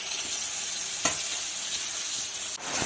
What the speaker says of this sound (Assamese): আৰু এইফালে মাছ ভাজি আছে।